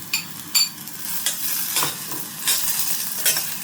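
Milkfish intestines frying in a pan, a steady close sizzle broken by repeated bursts of stirring and scraping.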